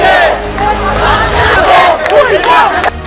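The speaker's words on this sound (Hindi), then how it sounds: "शेख हसीना के देश छोड़ते ही भीड़ ने प्रधानमंत्री आवास पर धावा बोल दिया" A large, agitated mob roars and shouts in a dense, continuous din while storming the prime minister's residence in Dhaka, the crowd close and loud throughout with overlapping yells.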